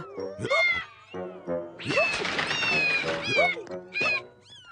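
A cartoon cat in a Hindi-dubbed animated episode lets out a series of loud meows and yowls broken by hiccups, with short bursts separated by brief pauses.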